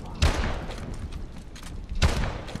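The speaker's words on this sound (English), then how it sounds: "I shot him twice and he didn't get killed by it." Two pistol shots from Call of Duty Advanced Warfare crack out loud and close, spaced nearly two seconds apart, with softer gunfire and thuds in the background between them.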